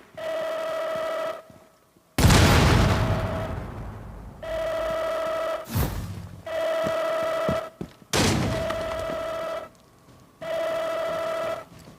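Frag grenade blasts in the mobile game Rainbow Six Siege Mobile: three loud, sharp bursts of broadband noise, each followed by a decaying rumble, alternating with steady electronic tonal hums.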